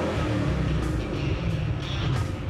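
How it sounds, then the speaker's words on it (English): A Ford Mustang's 650 horsepower V8 engine roars loudly and close by, a deep, heavy rumble with a steady throaty drone and slight revving swells throughout. "That big, mean-sounding V8 roar."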